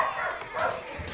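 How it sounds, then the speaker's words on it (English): Dogs bark and yip under a voice talking over a busy medieval strategy game, with the barking blended into the game noise. "Fucking dogs, man. Just never stop barking."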